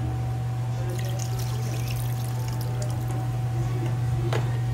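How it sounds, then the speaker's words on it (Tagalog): Water pours steadily into a pot, a continuous trickling splash against a low steady hum, with no talking. "Lagyan natin ng tubig."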